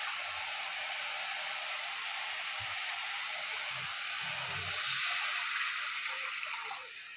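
A little water poured into frying masala for a kajoli fish curry sets off a loud, steady sizzling hiss that holds for several seconds, with faint pan clatter underneath.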